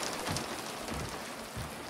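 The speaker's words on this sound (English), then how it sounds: "Oh, listen to that rain on the window" Rain in a video game patters steadily against a window, a dense, soft hiss with faint drops, heard alone.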